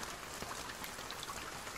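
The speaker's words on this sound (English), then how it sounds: "outside, so the rain's getting stronger" Rain in the video game A Sky Full of Stars, a soft, steady patter with scattered faint droplet ticks over a quiet hiss, continuous and low in level, with no talking.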